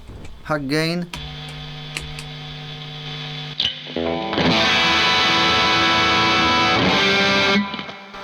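A Fender Antiqua Stratocaster made in Japan is played through a high-gain distorted amp, with a few picked and slid notes, then thick sustained chords, loud and close.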